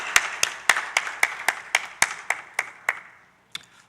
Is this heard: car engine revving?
no